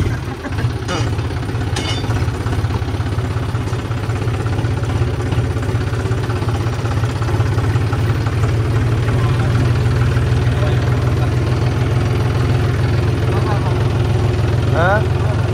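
A John Deere 5050D tractor engine runs steadily after starting, a loud, continuous low diesel drone with mechanical clatter at close range, and voices talking over it.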